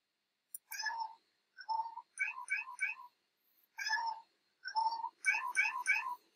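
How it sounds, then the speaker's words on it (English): A series of synthesized meow-like tones made in Ableton Live music software, in quick bursts, some in groups of three, playing clearly with short pauses between. "Meow, meow, meow, meow. Meow, meow, meow, meow."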